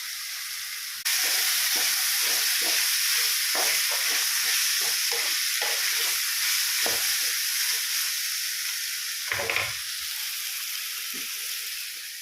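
Cut potatoes drop into a pan of softened onions and fry with a constant, moderate sizzle and hiss, while a spatula stirs in a steady run of soft scrapes and taps; nobody speaks.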